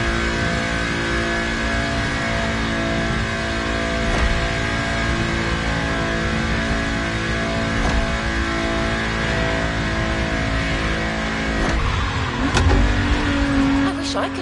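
A car driving in the racing game The Crew Motorfest on PS5, a steady loud engine drone with gear shifts and revving, with a voice talking underneath.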